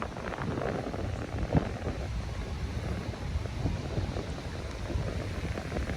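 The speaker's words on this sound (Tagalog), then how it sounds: "Mahangin pa din at malakas pa din ang alon." Constant rushing wind buffets the microphone over the low, rolling wash of waves, a loud and unbroken outdoor roar with no talking.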